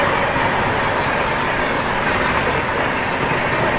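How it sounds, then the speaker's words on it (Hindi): Mumbai–Howrah Duronto Express running at speed, producing a steady, loud, continuous rumble of rolling stock with no distinct breaks. "तो ये लो अपनी दुरंतो भी स्पीड अप होनी शुरू हो गई है"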